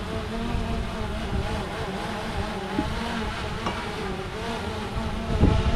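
A steady, high-pitched whirring buzz of a DJI Mavic Air 2 quadcopter drone hovering close by over a boat, with wind noise underneath and a louder swell at the very end.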